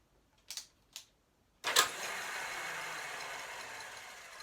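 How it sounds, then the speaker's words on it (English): A Honda CL 350 motorcycle engine is cranked, its starter clutch catching briefly and then slipping. Two short clunks come first, then a sharp engagement that settles into a steady whirring drone, close and with no talking. "it grabbed the starter clutch and then let go again"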